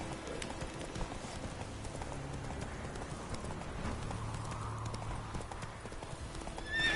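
Horse galloping in a video game, a fast steady clip-clop of hooves running continuously at moderate volume, with faint background ambience and a brief neigh near the end.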